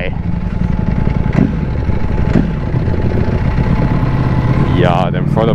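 A Ducati Panigale V4S motorcycle engine idles with steady rumble, briefly revving in a couple of sharp throttle blips, with a rising whine near the end, in London.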